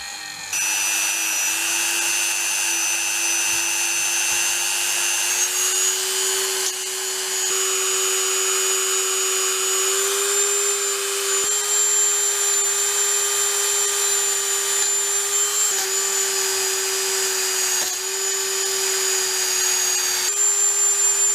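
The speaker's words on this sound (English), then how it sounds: "I've been polishing up the trigger using the polisher on my Dremel with some metal polish." A Dremel rotary tool fitted with a polishing attachment buffs the trigger of a Crosman 1377 air pistol with metal polish. It gives a continuous close high whine whose pitch steps up and down slightly as the load shifts.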